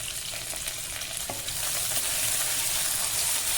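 Onions with green chillies and curry leaves frying in a pan for leafy-greens pulao, a steady close sizzle with stirring scrapes, growing slightly louder, no talking.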